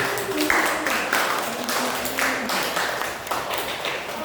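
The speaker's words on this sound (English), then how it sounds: "Please, one more applause for Mr. Abid." An audience at a literary talk applauds a speaker, with a steady wash of clapping that keeps going at moderate loudness and a few faint voices mixed in.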